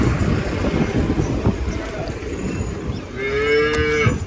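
Jersey and HF dairy cows on a farm, one lowing in a long, rising moo near the end, loud and close over a rumbling windy background.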